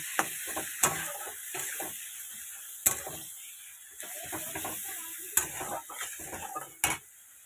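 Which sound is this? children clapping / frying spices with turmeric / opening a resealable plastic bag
frying spices with turmeric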